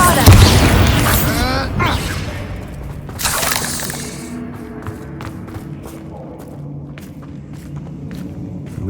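A Bombarda explosive spell goes off in Hogwarts Legacy: a loud, close blast with crashing, shattering debris, a second burst a few seconds later, then quieter footsteps and scattered clatter fading out.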